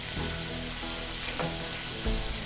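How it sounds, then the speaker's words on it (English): Elk meat sears in a hot pan with a loud, steady sizzling hiss and small crackles, close and continuous throughout. "We need to sear it from both sides."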